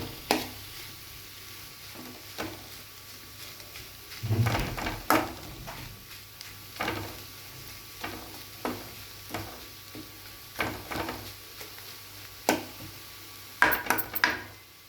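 Aloo masala fry for dosa being stirred in a pan, repeated scraping and clinking of a utensil against the pan over a faint sizzle, with a few louder knocks.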